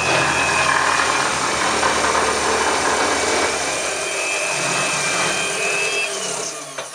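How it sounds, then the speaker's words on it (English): A fibreglass cutting machine slices through five stacked layers of 1210 GSM triaxial fabric, giving a loud, steady motor whine with broadband buzzing that holds for several seconds and eases slightly near the end. "Now I will cut 5 layers of triaxial 1210 GSM fabric."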